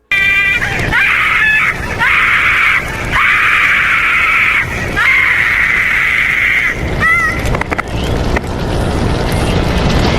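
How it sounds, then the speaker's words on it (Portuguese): A loud, sustained scream rises and breaks off repeatedly over a dense, noisy background, with short gaps between the long shrieks. "enquanto um grito muito alto toca de fundo"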